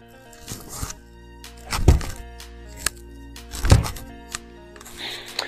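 A golf shot with a Srixon Distance ball gives two solid, hollow thumps a couple of seconds apart along with lighter knocks, set against a steady background hum.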